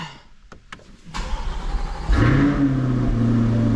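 A Corvette C8 engine turns over and catches, then settles into a loud, steady rumbling idle with a deep exhaust note close by.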